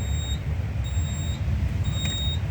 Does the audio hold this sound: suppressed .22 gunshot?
no